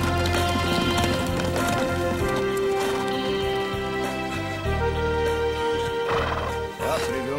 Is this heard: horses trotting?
yes